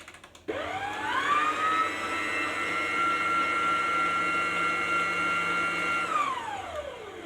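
Electric hand mixer whizzing banana loaf batter in a bowl, spinning up sharply, holding a steady high whine for several seconds, then winding down near the end, close and alone.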